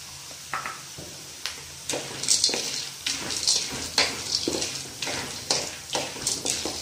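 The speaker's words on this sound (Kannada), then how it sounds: "ಒಂದು ನಿಮಿಷ ಫ್ರೈ ಮಾಡೋಣ" Peanuts and chickpeas frying in a pan, with a steady close sizzle broken by repeated scraping and stirring strokes at an uneven rhythm, and no talk.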